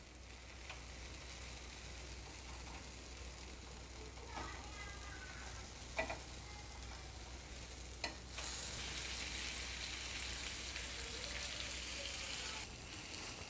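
Paneer cubes fry in butter in a pan for paneer tikka, a steady sizzle with scraping stirs and clinks, jumping louder partway through as fresh butter hits the hot pan.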